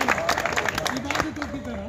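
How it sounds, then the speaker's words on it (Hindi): An audience claps through a welcome for a police inspector at an Eid and election event, a dense, fairly close patter under crowd murmur while a voice speaks over it. "पुनः तालियों से स्वागत कीजिए"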